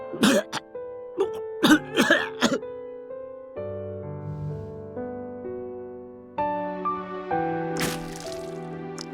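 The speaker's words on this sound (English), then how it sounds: "Right after smiling, Misyr coughs a lot of blood up again." A visual novel character coughs up blood in a burst of harsh, wet coughs at the start, followed by soft liquid drips and tones.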